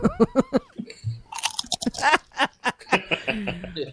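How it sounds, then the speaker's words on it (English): Close-up crunching of crisps being chewed, a rapid run of crackly, brittle bites with a brief snicker-like sound in between. "That's the sound of the crisp crossing his palate."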